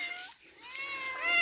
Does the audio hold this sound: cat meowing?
yes